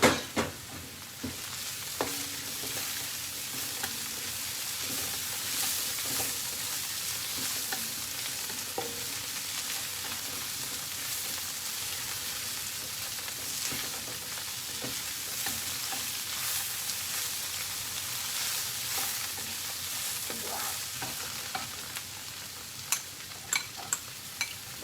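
Sausage stir-frying in a pan, with a steady soft sizzle and occasional scraping stirs and light clicks throughout, moderately close and alone with no talking.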